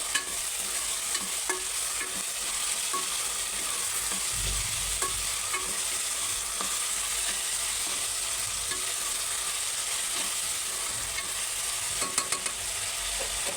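Thinly sliced raw mango stirred into a frying pan with tomatoes, a continuous soft sizzle with faint scrapes and taps from stirring throughout.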